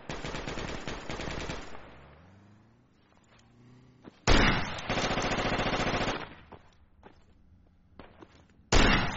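Automatic AK rifle fire in the military shooter game Project Reality, loud close bursts of rapid shots at the start, then a long sustained burst mid-clip and a final short burst, with quieter distant shots between.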